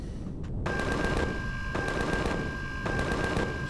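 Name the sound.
gunfire in Empyrion Galactic Survival video game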